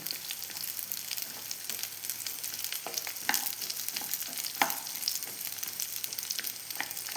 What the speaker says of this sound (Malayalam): ഇതൊന്ന് വഴന്ന് വരട്ടെ